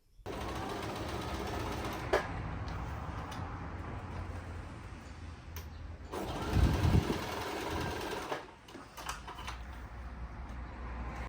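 A home sewing machine stitches the back center seam of a pair of pants, running in a steady close hum with brief stops and restarts and a louder burst midway.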